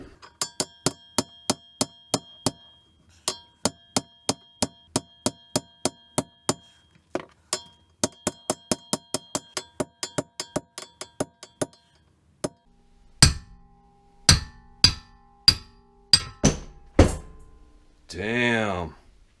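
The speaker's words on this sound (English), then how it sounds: "Bigger hammer." A hammer strikes Subaru Impreza suspension parts, dozens of sharp metallic clanks in fast, steady bursts that ring close and loud, then slower heavier blows with a brief scrape and clatter at the end.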